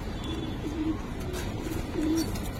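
Young Giribaz pigeons give repeated low, throaty coos that swell and fade, audible up close over a steady background hiss; no speech.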